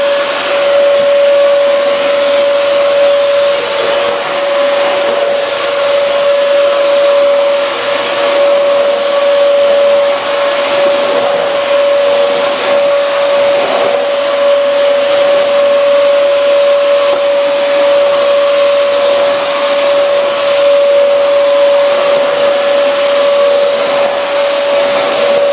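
A Dyson DC14 All Floors upright vacuum cleaner with a new post-motor filter runs steadily, giving a loud, continuous motor roar with a high whistling tone that holds throughout.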